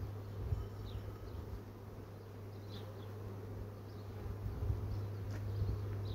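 Honeybees buzz at an open hive as frames are inspected, a steady low hum with scattered brief closer passes, no talking.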